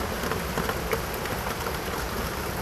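Steady rain falls outdoors around a gutter drainage pipe, a continuous close hiss with scattered drop patter and no voices.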